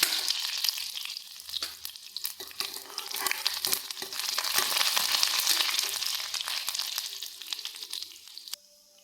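Mustard seeds pop as oil sizzles and crackles loudly while a spoon scrapes and stirs through the pan, a busy continuous frying sound up close.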